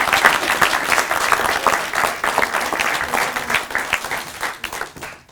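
Audience applause for contestants at a semi-final of a French speaking competition, a dense sustained wash of many hands clapping throughout before tapering at the end.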